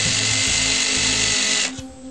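A power drill bores a hole into scrap wood with a loud, steady whirring whine that runs close up for about a second and a half, then winds down and stops.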